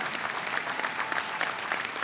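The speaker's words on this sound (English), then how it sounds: "Give him another round of applause for standing tall every single day." A convention hall audience at the CUPE 2015 convention breaks into steady, dense applause, a continuous wash of many hands clapping at moderate distance with no pauses.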